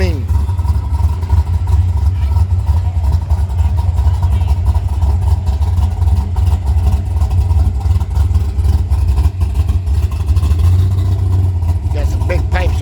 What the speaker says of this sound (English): Got some big pipes on the back too, man. Sounding tough.